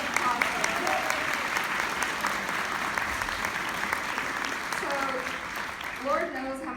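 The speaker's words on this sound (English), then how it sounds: "can y'all just give them a big round of applause?" An audience gives a sustained round of applause at a speaking event honoring a social worker and a child life specialist, steady clapping filling the room, with voices and cheers rising near the end.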